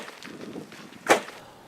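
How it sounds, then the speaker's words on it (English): Toyota Land Cruiser suspension bottoming out on a small rock while off-roading, a single sharp metallic bang standing out from faint rumbling, with no talk. "That's the sound of the Land Cruiser's suspension smashing into a fairly small rock."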